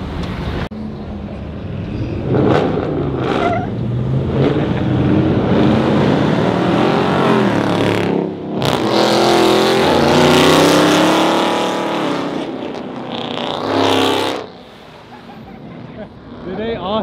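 A Dodge Hellcat revs hard and roars past with a supercharger whine, loud and close, surging at several points amid a busy car show crowd with people talking throughout.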